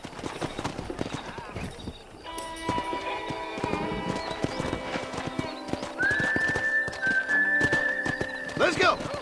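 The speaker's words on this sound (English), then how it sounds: "Let's see if we can't wrangle some horses." Hooves clip-clop steadily with horses whinnying amid Red Dead Redemption game sound effects, and a voice speaks over the busy scene.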